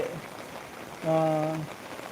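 Steady heavy rain falls as an even, soft hiss with no breaks, and a voice sounds briefly over it.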